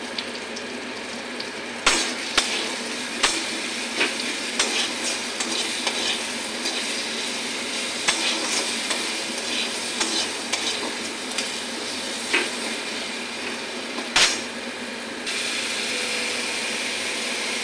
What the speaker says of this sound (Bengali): দেখো আমার মশলাটা কি সুন্দর ভাজা ভাজা হয়ে গেছে